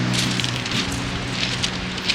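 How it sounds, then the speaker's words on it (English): Steady rain hisses outdoors in Brighton, England on a cold day, a dense continuous wash with faint patter spikes throughout and no voices over it. "it's so cold and it is raining"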